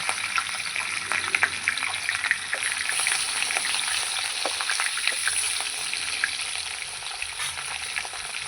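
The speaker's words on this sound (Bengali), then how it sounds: "আমার তেলও গরম হয়ে গেছে মাছগুলো ভেজে নেব" Fish pieces fry in hot oil in a home kitchen, a loud continuous sizzle and crackle with scattered pops, close and steady, without speech.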